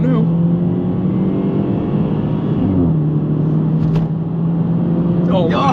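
BMW 320i with its muffler deleted, a steady droning exhaust note holding a constant pitch under continuous talk, with a brief dip and shift midway as the engine revs change.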